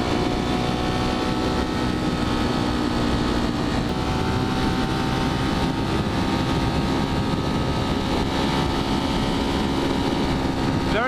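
A Ducati Monster 1200 motorcycle engine held around 8,000 RPM on a ride up a valley road: a loud, steady, buzzing drone mixed with heavy wind rush throughout.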